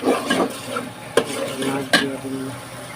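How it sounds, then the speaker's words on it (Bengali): Fish frying with spices in a pan brings a sustained sizzle, while a utensil stirs and scrapes against the pan in repeated strokes, with two sharp knocks standing out, and no speech. "মাছগুলো দিয়ে দিছি মাছগুলো একটু কষে না চাপবো"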